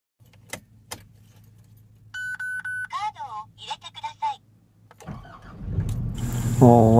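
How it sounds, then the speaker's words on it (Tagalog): Keys jangle, then a car with its ignition switch replaced by a screw cranks and its engine catches and rises to a loud idle, after a series of beeps and chimes; a voice is briefly heard. "Wala siyang key chip guys, kaya umandar siya kaagad."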